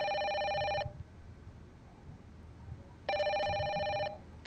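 A telephone rings twice in the video game Project Zero: Maiden of Black Water, each loud electronic bell-like trill lasting about a second with a quiet pause between.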